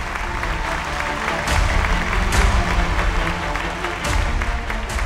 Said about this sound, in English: Let's invite them back on with a huge round of applause.